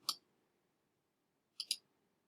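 A computer mouse button clicked twice: one sharp click near the start, then a quick double click after a pause, quiet and close with nothing else in the room.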